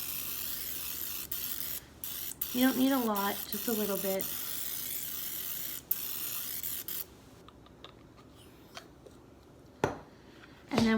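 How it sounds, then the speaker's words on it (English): A steady hiss of olive oil spray into a baking dish runs for several seconds while a voice talks over it, then stops, leaving a few soft taps. "lightly spray it with some olive oil"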